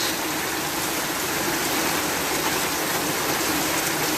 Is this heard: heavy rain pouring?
yes